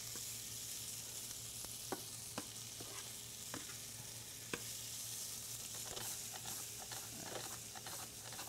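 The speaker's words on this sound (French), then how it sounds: "On garde les épinards à la poêle, si possible." Spinach sautés in a frying pan with a soft, steady sizzle and hiss, broken by occasional light taps and stirring clicks at a modest distance.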